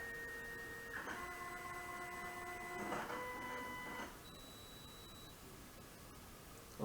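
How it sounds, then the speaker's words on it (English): A Canon MF644Cdw printer scans a document, giving a faint whirring motor with sustained mechanical tones that shift pitch as the scan head travels, then quieter hum near the end; no speech. "And that's going to immediately start scanning."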